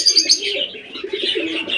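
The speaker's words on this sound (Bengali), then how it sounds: "এখানে কিছু লাভপাট কবুতর পাখি আছে" Several pigeons coo and chirp at a pigeon farm, soft overlapping calls close by with a few higher tweets at the start, no talking.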